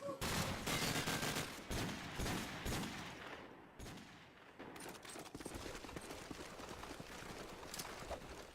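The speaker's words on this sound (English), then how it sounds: "Stormy has decided to leave the scope for what it is and switch to an AK." Dense AK rifle fire from a Call of Duty 4 match in a competitive grand final rattles continuously in rapid bursts, loud and busy throughout.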